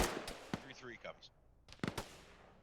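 Enemy gunfire in a military video game, a few sharp bursts of shots, one early and a cluster later, standing out between quieter gaps with a voice speaking over part of it.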